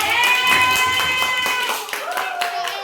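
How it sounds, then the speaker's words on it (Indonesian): A small group claps hands together in a classroom or training session after a team activity, rhythmic clapping running under a voice that speaks and sings over it before tapering off. "tepuk tangan dulu kan, Pak"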